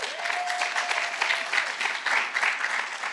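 An audience at a panel discussion on GMOs breaks into steady, fairly loud applause for the moderator, a continuous wash of clapping that lasts the whole stretch.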